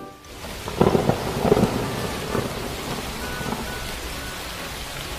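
An animated thunderstorm with heavy rain: several close thunder rumbles roll over a constant hiss of rain pouring on surfaces, with no voices.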